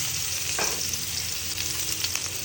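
Chopped onions sizzle in a little hot oil in a pan, making a steady, loud, close frying hiss with a few brief stirring sounds and no voices.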